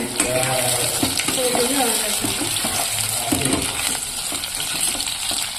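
Radish pieces fry and get stirred in hot oil with onions for a South Indian radish sambar, a steady close sizzle with scraping spoon strokes, while someone speaks over it throughout.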